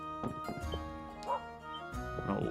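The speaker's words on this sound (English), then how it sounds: "this is just a house for talking to dogs" Dogs barking in the video game Ys Seven inside a village house, several short yaps and barks in a quick irregular run over steady game music.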